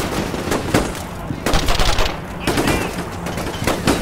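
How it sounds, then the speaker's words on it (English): Rifle fire in a Combat Mission: Shock Force firefight, with rapid sharp shots in clustered bursts mixed with returning volleys, loud and close throughout. "Our men are returning fire through the building, seeing if they can hit this guy through the windows possibly."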